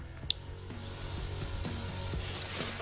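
A ground fountain firework burning with a steady hissing, crackling spray, moderately loud and continuous, with faint irregular clicking and popping over the top and no talking.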